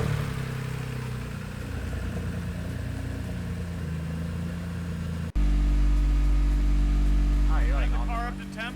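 A warmed-up car engine runs steadily at about 2,000 rpm to heat the oil before an oil change, a constant low drone that deepens and grows louder partway through, with a voice briefly near the end.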